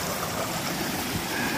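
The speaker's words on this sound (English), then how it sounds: "Just on the edge of a creek here" Creek water flowing at the edge of a stream beside an old logging road, a steady close rushing and trickling wash with no pauses.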